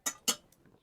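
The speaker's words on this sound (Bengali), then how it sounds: "কড়াটা নামিয়ে রাখলাম," A metal wok (kadai), used to boil sweet potatoes, set down in a home kitchen, giving two sharp metallic clanks in quick succession with a faint rattle after.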